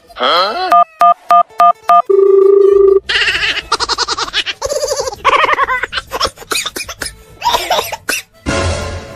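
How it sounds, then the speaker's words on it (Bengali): A phone number is dialed as a quick run of evenly spaced keypad beeps, followed by a steady tone, and then a voice with throat noises comes in. "আমি এখনই আমাদের ম্যানেজার স্যারকে ফোন দিচ্ছি"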